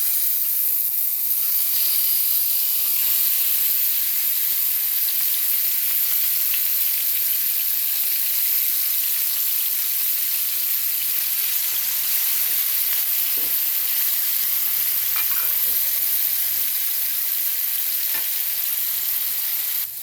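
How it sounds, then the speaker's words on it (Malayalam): Masala-coated prawns fry in hot coconut oil with a loud, steady sizzle and hiss lasting twenty seconds, broken now and then by soft stirring clinks. "ഇനി നമുക്ക് മസാല തേച്ച ചെമ്മീൻ ഇതിലേക്ക് ഇട്ട് കൊടുക്കാം കേട്ടോ"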